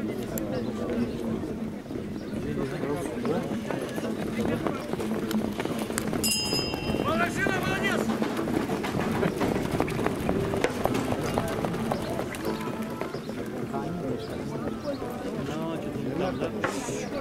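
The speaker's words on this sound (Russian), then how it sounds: "Лошади выходят на финишную прямую." Racehorses gallop down the home straight of a race, rapid hoofbeats drumming under a continuous announcer's commentary and crowd noise, with a brief sharp sound partway through.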